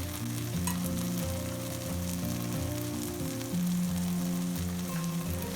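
Butter melting into hot dal makhni gives a steady bubbling sizzle with stirring, heard up close beneath a constant low hum, without speech.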